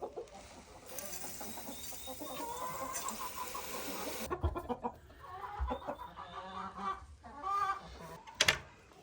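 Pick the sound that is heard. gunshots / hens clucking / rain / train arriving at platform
hens clucking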